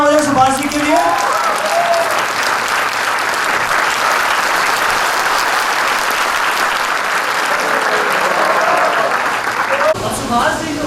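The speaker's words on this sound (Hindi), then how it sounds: "हम एक जबरदस्त तालियां हो जाए सुभाष जी के लिए" A convention crowd breaks into loud, dense, sustained applause lasting several seconds, with a voice speaking briefly at the start and again at the end.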